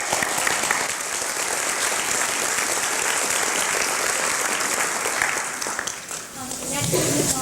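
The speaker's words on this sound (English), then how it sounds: "Let's give them a big round of applause." A board meeting audience breaks into a sustained round of applause, steady and dense clapping filling the room for several seconds, easing briefly near the end before picking up again, with a voice speaking over the tail.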